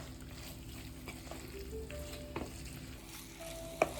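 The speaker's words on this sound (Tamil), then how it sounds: "நல்லா கலந்துட்டு ஒரு 2 நிமிஷம் சிம்மிலே வச்சு கிளறி கொடுத்துன்னே இருக்கணும்." Chilli chicken frying gently in a pan on low heat while being stirred, a soft, quiet sizzle with sparse utensil scrapes and one sharp clack near the end.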